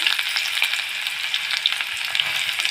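Onion sautéing with popped mustard seeds in hot oil, a loud, close, continuous crackling sizzle with small irregular pops and stirring, no voices.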